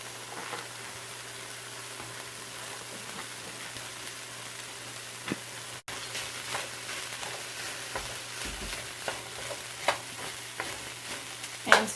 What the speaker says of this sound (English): And stir it to make sure it's coated with all the soy sauce and seasoning